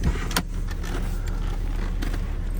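A Jaguar XJ40 engine idles in park with the bonnet open, a low, even rumble joined by a few light clicks and clunks nearby; the car has transmission problems.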